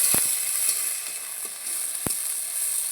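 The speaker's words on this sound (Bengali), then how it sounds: "পেঁয়াজগুলো লাল লাল করে ভেজে নিয়েছি।" Chopped onions fry in a pan for a Bengali fish curry, giving a steady bright sizzle with a couple of sharp taps and scrapes from stirring.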